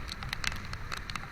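Moderate rain falling outdoors in Jakarta, a steady close patter with crackly drops striking surfaces, continuous throughout without speech.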